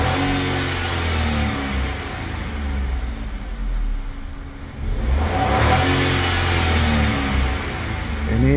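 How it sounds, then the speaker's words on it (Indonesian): A car engine treated with Blackcore maintenance is repeatedly revved from idle up to about 5000 rpm and released, a loud, steady mechanical drone that dips briefly and surges back, with no voices. "kita lakukan pengegasan, kemudian langsung dilepas sampai 5000, antara 10 kali sampai 15 kali"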